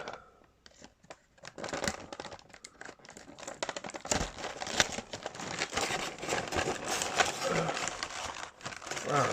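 Plastic blister packaging of a Dark Wolf action figure crinkling and crackling continuously up close, growing louder and busier as the package is handled, with faint tearing and tape sounds.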